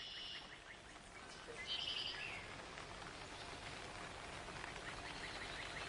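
Rain falls steadily in a Romanesque monastery cloister, a soft, even hiss with faint bird chirps briefly above it.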